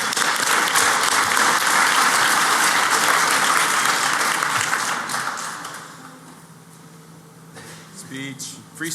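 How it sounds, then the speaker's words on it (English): Loud crowd applause at a security conference awards ceremony, dense clapping for about five seconds that fades out, followed by quieter room noise and a few scattered sounds. "I'm going to give you just a huge round of applause for that."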